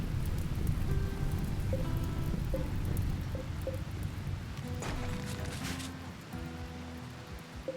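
Rain pattering in a video game, a steady close hiss of drops on surfaces with several faint tonal game chimes and a brief brighter burst partway, fading slightly toward the end with no talk.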